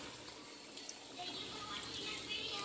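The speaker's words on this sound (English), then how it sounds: "So now we're going in with some water" Water poured into a pan over pink salmon for steaming, a faint steady splashing and trickling pour that lasts throughout.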